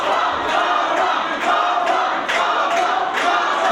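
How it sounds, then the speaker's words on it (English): A wrestling crowd at UPW Studios cheers and roars for Harper in a loud, sustained din, with rhythmic surges as fans chant and will her on. "The crowd here at UPW Studios willing Harper on."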